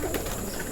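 Pigeons coo in a stock loft at dusk, a brief low, soft coo close by with a murmur of other birds behind it.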